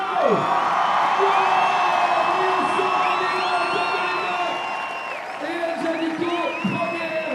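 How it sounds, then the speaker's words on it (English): A crowd at the IFSC Climbing World Cup in Briançon cheers, whoops and applauds the winner of the evening's lead final, a loud sustained roar with an amplified announcer's voice talking over it. "Applaudissements pour Hélène Janico"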